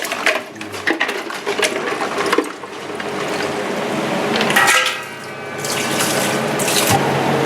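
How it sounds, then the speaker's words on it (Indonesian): Ice water pours into dough in uneven splashy bursts, with a steady running trickle midway and a clatter of handling noise around it. "Ini air es, Pak."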